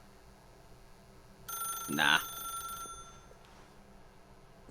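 A ringing telephone in The Stanley Parable sounds a single short, bright ring over quiet ambience, with a brief spoken word nearby.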